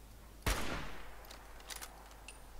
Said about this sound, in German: Gott, wieso schieße ich denn daneben?